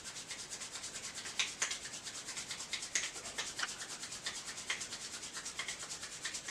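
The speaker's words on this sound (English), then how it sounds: "rub the hands together" Palms rub together in quick, even back-and-forth strokes during a home yoga class, a soft, faint, rhythmic brushing that repeats steadily without any voices.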